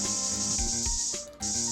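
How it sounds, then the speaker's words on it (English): A steady hiss of a spray sound effect from the Ace Attorney video game runs over a low musical background, cutting off briefly near the end before resuming. "Enough spraying our stuff everywhere."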